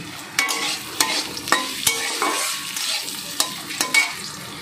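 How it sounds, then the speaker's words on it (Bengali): Potato pieces frying in hot oil in a pan with chillies, crisp sizzle broken by repeated scraping stirs of a spatula, close and alone without speech. "আলুটা কিন্তু ভাজা ভাজা হয়ে গেছে"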